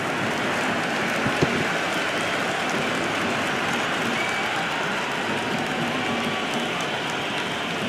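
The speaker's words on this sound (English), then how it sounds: "The crowd is electric right now." Dense, steady roar of a cheering stadium crowd at a cricket match in the Cricket 26 video game, a loud continuous wash of noise with no pauses, heard without talk.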